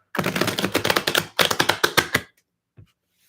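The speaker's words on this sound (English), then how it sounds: "Shuffling for Libra. Last shuffle." Tarot cards being shuffled by hand, two quick runs of rapid crisp riffling clicks close to the mic, then a couple of soft taps before it goes quiet.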